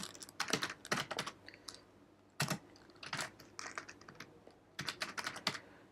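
Keys clicking on a computer keyboard while an online application form is filled in, quick bursts of close, faint taps separated by short pauses, with no talking.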